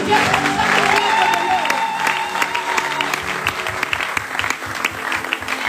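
Church congregation applauding during a sermon: sustained, loud clapping from many people fills the space, mixed with some crowd voices and cheering, then thins into scattered claps.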